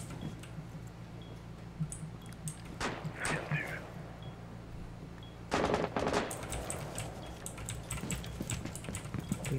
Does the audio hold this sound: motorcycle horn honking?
no